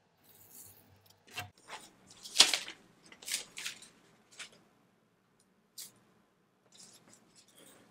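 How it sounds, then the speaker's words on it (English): A rotary cutter slicing through shirt fabric on a cutting mat, a few short, soft crisp rolling cuts separated by quiet pauses, close and isolated. "And then I'm going to use my rotary cutter"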